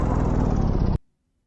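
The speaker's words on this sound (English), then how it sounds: "I like how the car drives and how it sounds" A car engine in a hunting video game's test map, a steady, fairly loud drone with a slowly falling pitch that cuts off abruptly after about a second, leaving near silence.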